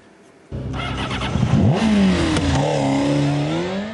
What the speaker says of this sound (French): Vrombissement de moteur, crissement de pneus, burn et wheeling, bienvenue dans le monde des stunters